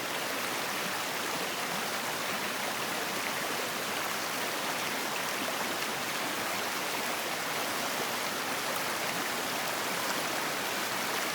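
Creek flowing out of La Muir into Hogan Lake through swampy ground, a steady broadband rush of running water, close and unbroken throughout.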